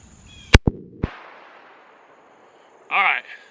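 A single sharp, loud shot from a 45-70 Government rifle fitted with a red dot sight, with two quick follow-up cracks and a decaying echo, then a short burst of noise near the end.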